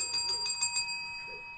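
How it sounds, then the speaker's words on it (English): A bell rung several times in quick succession during a trading card break of 2019-20 Panini Hoops Premium Stock basketball packs, bright metallic dings ringing out alone over a faint steady tone, then fading. "Let's get the bell ready."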